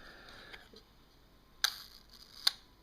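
Rollei camera shutter firing at a slow shutter speed, two sharp mechanical clicks about a second apart after a softer click, close and distinct over quiet room noise.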